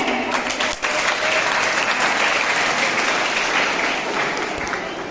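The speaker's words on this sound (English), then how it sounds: "Please give a huge round of applause to appreciate them." Steady, dense applause from a school audience at a leadership investiture ceremony, loud and sustained for about five seconds after a staff performance, tapering slightly at the end.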